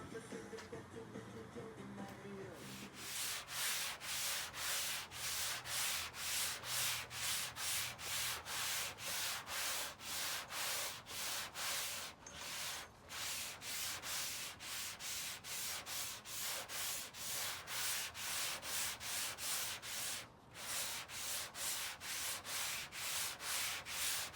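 Body filler on a dent in a 1988 Dodge Raider being sanded by hand with steady, rapid back-and-forth rubbing strokes, loud and close, running continuously after a brief quieter start with only short pauses.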